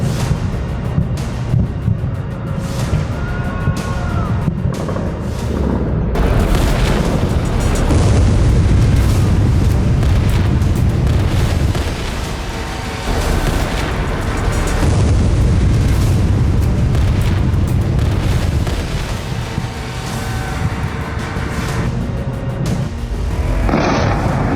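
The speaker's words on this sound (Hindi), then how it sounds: "गाजा युद्ध की तरह तेहरान में अब धमाके पर धमाके हो रहे हैं।" Explosions and blasts in Tehran during the Israel–Iran conflict, a loud, dense, continuous rumble of heavy booms that rolls on throughout without pause, with no voices.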